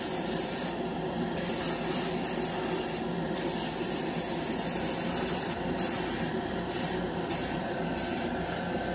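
A GSI Creos Mr Hobby Procon Boy SQ single-action airbrush sprays primer onto a scale model: a steady, close airy hiss runs throughout, with brighter bursts of spray starting and stopping at irregular intervals.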